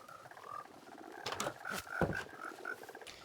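Frogs croaking in a video game farm, a series of rhythmic croaks and gurgles close by, with a few louder bursts in the middle, no talking.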